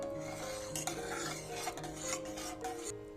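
A spoon stirs moong dal and sago payasam in a metal pot, steady scraping, swirling, rubbing and clinking over a constant low hum, no voices.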